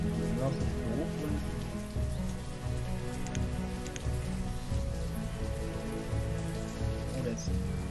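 Steady in-game rainfall from the city-building game Banished, a constant hissing patter layered over sustained game music at even loudness throughout.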